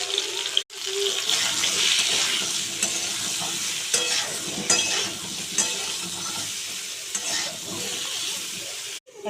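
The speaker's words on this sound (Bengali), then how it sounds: "এবার আলু কুমড়োগুলো ছেড়ে দিচ্ছি, একটু ভালো করে নেড়ে ছেড়ে দিয়ে দেবো নুন," Potatoes and pumpkin fry in oil in a pan, a constant close hiss and sizzle with scraping stir strokes throughout.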